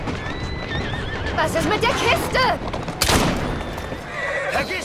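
Horse whinnying in the Victorian London game Assassin's Creed Syndicate, a loud descending neigh rising over clip-clopping hooves and game noise, with a German voice speaking briefly.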